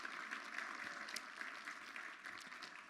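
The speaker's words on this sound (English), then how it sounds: "You got an applause with no speaking" Scattered audience applause at a public gathering welcoming a college president, a steady moderate patter of clapping throughout with no voices over it.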